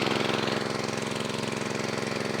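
A small engine-driven water pump runs steadily while draining a pond to catch fish, its loud, even mid-pitched engine drone continuing without a break and no voices.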